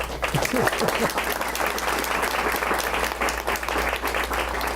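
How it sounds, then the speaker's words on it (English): Round of applause from a forum audience at a county executive candidate event, a full, continuous burst of clapping with a low hum beneath and a brief voice at the start. "Give yourself a round of applause, please."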